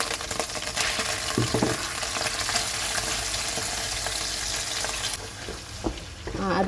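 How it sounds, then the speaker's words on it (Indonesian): Ground spice paste sautés in oil with a continuous close hiss and a few soft stirring knocks, easing off near the end. "Menggunakan minyak yang sama, kurangi dulu lalu kita tumis bumbu halusnya."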